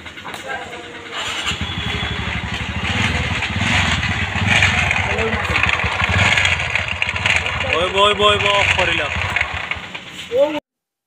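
A TVS Ntorq scooter's engine runs steadily and close by, its sound carrying the gearbox pinion fault, with someone talking over it and a brief rev near the end.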